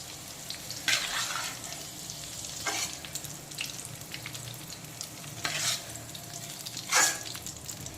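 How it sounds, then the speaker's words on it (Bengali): Potato and papaya pieces fry in oil for a mutton curry, giving a low, steady sizzle punctuated by several crisp spatula scrapes and stirs at irregular intervals. "এখন আলু আর পেঁপে দুটোই কিন্তু ভাজা কমপ্লিট"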